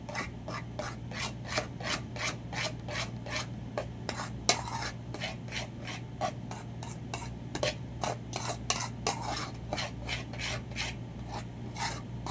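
A utensil scraping and stirring food around the inside of a cooking pot, steady repeated rasping strokes over a low background hum, close and with no talk.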